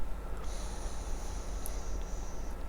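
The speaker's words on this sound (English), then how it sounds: "Let's have a sniff then." A person takes a sniff of a cold can of hazy IPA beer. A single soft, breathy inhale sits close to the microphone over a steady low background hum.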